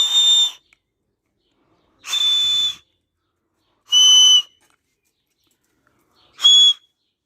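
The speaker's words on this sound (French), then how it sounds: "regardez comment je pose la main et vous allez voir comment ça siffle" Four loud, shrill hand whistles, each made by blowing through cupped hands, sound in sequence. Each burst lasts about half a second to a second, with long silent gaps between them, and no voices are heard.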